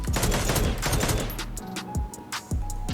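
Marksman rifle fire in the shooter game Krunker, a rapid run of sharp, loud shots that thins into separate blasts with short gaps toward the end.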